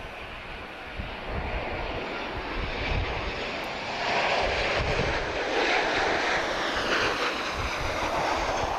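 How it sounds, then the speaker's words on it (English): A KLM Boeing 737-800 arriving from Amsterdam touches down at Lisbon Airport with a loud, steady engine roar that fills the whole stretch and swells partway through, with no one talking. "Very beautiful touchdown there from KLM."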